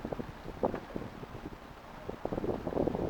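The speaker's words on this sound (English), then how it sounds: "Bit of wind here, but no big deal." Steady wind gusting around a sailboat moored at a buoy, a broad rushing noise with some microphone buffeting that rises toward the end.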